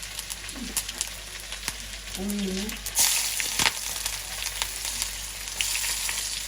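Fenugreek, mustard seeds and cumin crackle and sizzle as they temper in hot oil. A steady frying hiss carries on, with a few sharper pops and stirring scrapes, and no one speaks.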